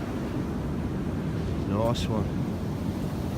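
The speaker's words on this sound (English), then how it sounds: "The waves are still coming up." Ocean surf washes steadily against an eroded Australian beach below high dunes, a continuous broadband roar mixed with wind buffeting the microphone, while someone briefly speaks.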